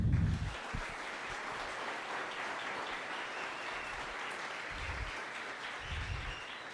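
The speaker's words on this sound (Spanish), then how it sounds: "Un aplauso, por favor." An audience at a software development conference session in Bogotá claps steadily at the close of a talk. The applause is moderate and even throughout, with a few low thumps near the microphone.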